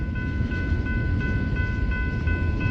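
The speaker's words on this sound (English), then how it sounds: "There's another train coming." A train passes with a loud, continuous rumble and a sustained tonal hum or horn note riding over it, steady throughout with no voices.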